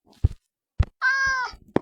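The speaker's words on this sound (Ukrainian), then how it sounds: "Зустрів маленького котика." A small cat meows once in a Minecraft village cartoon, a clear drawn-out mew framed by a few soft thumps before and after.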